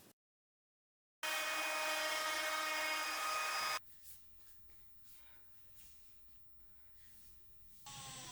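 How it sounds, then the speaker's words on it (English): A drill bores a hole through a wooden workpiece in a workshop, a loud, steady whine for a couple of seconds followed by quieter scraping and handling noises. "Use your drill bit to drill a hole where the electrical cord will go through."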